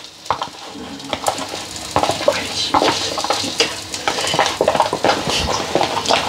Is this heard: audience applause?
no